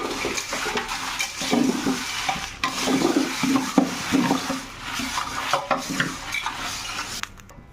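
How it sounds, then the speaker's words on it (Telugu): Dried red chillies roast in a pan on low heat for homemade sambar powder, stirred with a utensil that scrapes and knocks against the metal in a steady stream of scratchy clatter, heard up close. "ఇప్పుడు ఎండుమిరపకాయలన్నీ కూడా యాడ్ చేసేసి రోస్ట్ చేసుకోవాలి."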